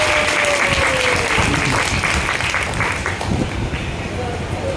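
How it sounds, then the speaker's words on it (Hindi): A crowd at a Srimad Bhagwatam katha gathering in Delhi breaks into loud, sustained clapping, a dense wash of applause with cheering and voices mixed underneath, tapering slightly toward the end. "इनके लिए जोरदार ताली हो जाओ"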